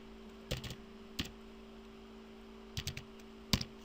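The netstat command is typed at a Windows console on a computer keyboard. Short bursts of a few soft key clicks are separated by pauses over a low steady hum, with no talk.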